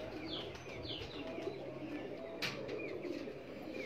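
Pigeons cooing on a rooftop, soft repeated low coos with a few chirps, faint and close, amid light background noise and a brief flutter.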